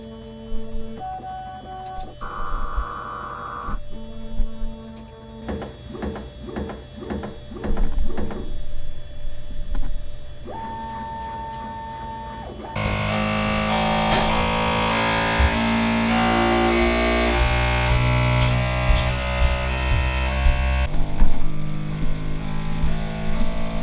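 A Bambu Lab P1S 3D printer runs through its self-test, giving off a sequence of tones, rapid mechanical clicks and stepper-motor whirs, then a sustained loud humming, buzzing run of motor noise with no talking.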